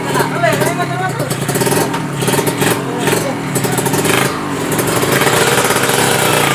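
Motorcycle engine running nearby, a steady rough drone with some revving, continuous under loud overlapping talk from several people.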